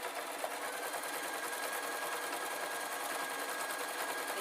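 A sewing machine stitching a tweedle muffler runs continuously at a fast, even rhythm, a close and steady mechanical whir with no talk.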